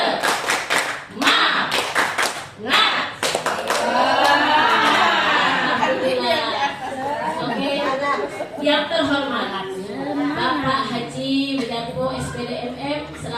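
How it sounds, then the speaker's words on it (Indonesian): A seminar audience of teachers at an elementary school performs a rhythmic spirit clap: a quick series of sharp, patterned claps from the crowd at the start, followed by group chanting and talk. "kita coba untuk tepuk semangat"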